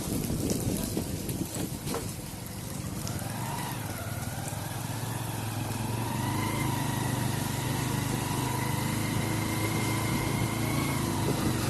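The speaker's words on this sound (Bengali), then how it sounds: "খুবই ভালো লাগে এভাবে বাইক রাইড করে ঘুরে বেড়াতে" A motorcycle riding along a road, its engine droning steadily and close with wind rush, the pitch rising and shifting as it accelerates.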